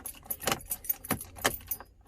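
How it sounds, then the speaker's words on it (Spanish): Car keys for a 2013 Dodge Ram 1500 jangle and clink in several metallic bursts as a new key is fitted, close and moderately loud with no speech. "Aquí ponemos la llave nueva."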